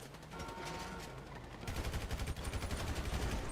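Rapid bursts of automatic gunfire ring out during a police shootout in a video game, building into a dense, loud string of shots in the second half.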